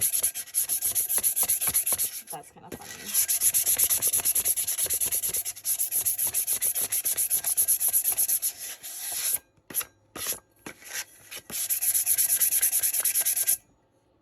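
Steady, abrasive sanding strokes rasp back and forth by hand on an epoxy tumbler, close and loud, pausing briefly near the end; a voice speaks once.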